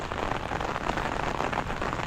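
Heavy monsoon rain pours steadily onto surfaces near a flooded fish pond, a dense, loud, unbroken hiss with no voices.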